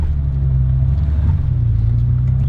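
A 1972 BMW 3.0 CS engine held on the throttle climbing a hill, a steady loud low rumble and drone that stays close and constant throughout, with no voices.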